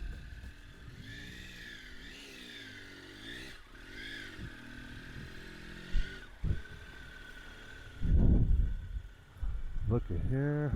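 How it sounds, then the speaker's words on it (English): Motorcycle on a camping trip near Mount Rushmore, ridden slowly up a slope; a low engine drone runs under steady close talk, with louder engine surges near the end. "I think I can get my damn bike all the way up there."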